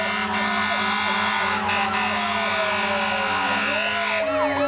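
A 1976 Dodge Mini Pumper fire engine's siren wails steadily through a parade, rising and falling continuously at close range and loud, with no gaps.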